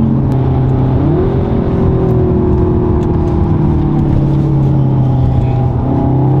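Volkswagen Golf engine pulling hard under acceleration with a sustained, loud engine drone throughout that steps up in pitch about a second in and holds, heard from inside the car.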